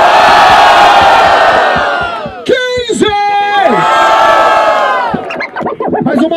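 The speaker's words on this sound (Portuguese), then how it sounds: "Barulho para as rimas do Mike!" A crowd at a street rap battle roars with cheers, whoops and shouts, loud and close, with a host's amplified voice rising over the noise before another wave of yelling.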